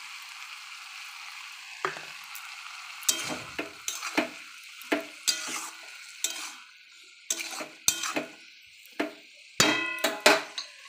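Mustard paste frying in a pan for a cauliflower stalk chorchori, with soft continuous sizzling under a series of sharp scrapes and clinks as a utensil stirs against the pan, irregular and close.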